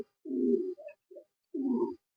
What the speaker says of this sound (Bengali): প্রথমেই যে কবুতর গুলা দেখতেছেন এগুলো হলো আমাদের খামার